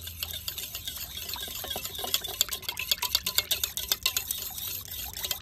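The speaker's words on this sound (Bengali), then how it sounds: "এবারে এই কটা উপকরণ ভালো করে একটু মিশিয়ে নেব।" Cake batter of boiled, cooled cow's milk and other ingredients is stirred in a bowl, giving soft, quick, rhythmic sloshing and clicking strokes at close range, fairly quiet and without talk.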